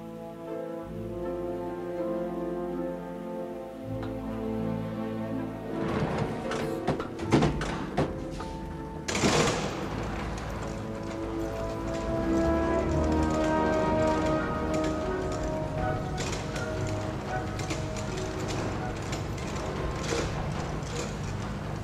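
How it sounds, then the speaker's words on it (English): Steady rain patters through the opening of the video game Forgotton Anne, a continuous soft wash joined by a swelling musical score and occasional dull thumps, with no voices. "Rain. Always rain."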